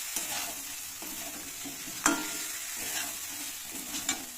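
Potato curry with spices sautéing in a pan, a soft steady sizzle broken by a few scraping stirs of a spatula, one sharper clink near the middle, close and fairly quiet.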